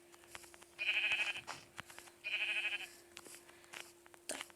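Two clear sheep bleats in Minecraft, each lasting about three-quarters of a second and separated by a short gap, set over quiet game ambience with scattered soft clicks.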